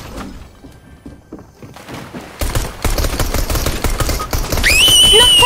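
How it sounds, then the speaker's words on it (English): Fortnite gunfire starts as sparse, quieter shots, then bursts into loud, rapid volleys up close, and a rising synthetic tone enters near the end. "someone shooting me"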